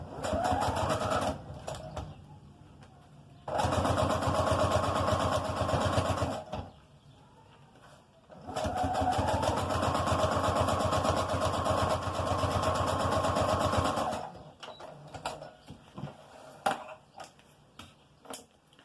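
A sewing machine stitches a zipper onto the pocket of a baby document holder, running in two steady motorized bursts of several seconds each with short pauses between, close and fairly loud, then soft handling noises.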